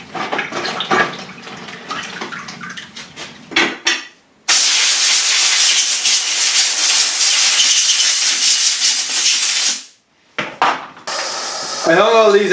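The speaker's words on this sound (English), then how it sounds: "now I'm going to spray them with a zinc primer" An aerosol spray can applies zinc primer to rust-treated rear suspension parts of a Daihatsu Charade: a loud, steady hiss that runs for about five seconds, then short bursts, with clicks and handling noise before it.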